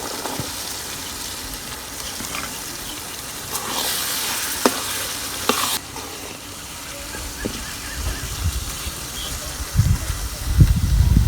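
Chickpeas tumble into a hot pan, followed by steady sizzling and the scrape of stirring, with a few sharp clinks and wet shuffling toward the end.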